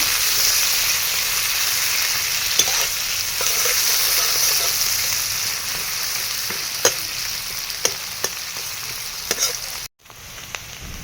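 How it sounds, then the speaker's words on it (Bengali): Chopped onions sizzle steadily in hot oil as they fry toward golden brown, a loud continuous crackle with occasional stirring clicks, the sizzle dipping briefly near the end before resuming. "এখন পেঁয়াজটাকে একটু লাল লাল করে ভেজে নেব বা গোল্ডেন ব্রাউন করে একটু ভেজে নেব"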